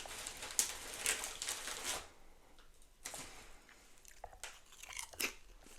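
Crisp, close crunching of Trailer Park Boys ketchup-flavoured potato chips, with several bursts of chewing and biting in short irregular clusters, fairly quiet and with no talking.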